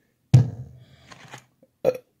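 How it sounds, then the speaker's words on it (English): A loud, deep burp erupts after a McDonald's meal, followed by a few softer throaty sounds and a second short burp, close and isolated in silence. "I'm sorry you guys had to go through that awful burp."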